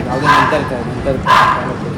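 A dog barks twice in two sharp bursts about a second apart during a family ice cream get-together, with people talking throughout.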